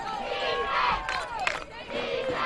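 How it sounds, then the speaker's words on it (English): Spectators at a youth bantam football game roar and shout in a dense, sustained wall of cheering, with excited voices rising and falling throughout and no break in the noise. "Crowd's going crazy."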